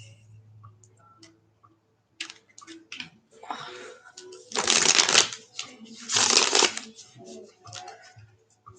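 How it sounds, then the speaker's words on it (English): Tarot cards are shuffled by hand in two loud bursts of riffling, with softer card handling and clicks around them and faint talk early on. "I'll pull a few cards for you guys,"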